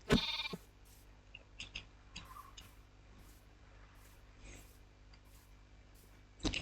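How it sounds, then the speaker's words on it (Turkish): A few short Minecraft sheep bleats sound in a quiet game world, with soft ticking and ambient hum between them; one louder bleat opens the scene. "Burada bir tane de koyun var"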